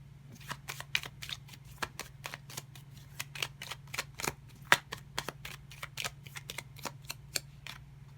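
Tarot cards being shuffled by hand, a steady run of crisp riffling snaps close up, repeating rhythmically over a low background hum.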